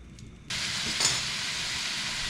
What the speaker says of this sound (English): So this is just going in the frying pan just how it is.